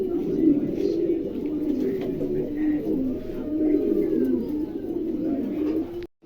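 A pair of fancy pigeons coo continuously in soft, low, rolling phrases close by, with faint background chatter.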